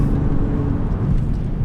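A Volvo V60 Polestar wagon accelerates hard, its engine producing a loud, steady low roar heard from close by, with no voices.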